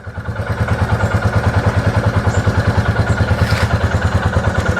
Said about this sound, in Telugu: ఇంజిన్ అయితే స్టేబుల్గా స్టార్ట్ అయ్యి ఉంది